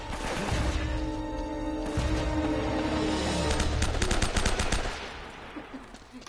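Gunfire in the action game Uncharted: Drake's Fortune, bursts of rapid automatic shots with heavy booms building to a dense volley, then tapering off, loud and up close.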